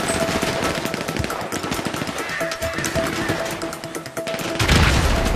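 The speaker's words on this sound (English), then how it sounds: "got one with a grenade" Gunfire and a grenade blast in GTA V Online adversary mode: dense rapid machine-gun bursts fill the whole stretch, with a heavier booming hit near the end, loud and without speech.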